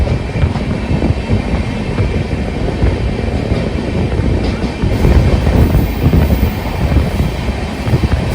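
The Raptisagar Express rolls through a station without stopping, a steady loud rumble of wheels and carriages with wind buffeting the microphone, swelling slightly toward the end.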